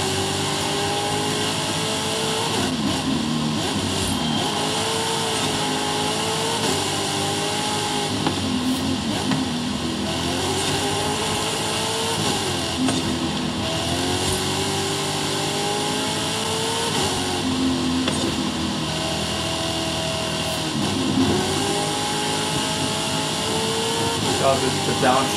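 A race car engine in Forza Horizon 5 drones steadily throughout, its pitch rising and falling through revs and downshifts at a fairly even level, with talk running over it.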